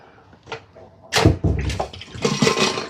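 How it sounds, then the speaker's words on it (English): Tap water runs while freshly harvested zucchini are rinsed clean of sand, starting with a small splash and then gushing loudly and unevenly at close range, with no talking. "We're going to rinse these off"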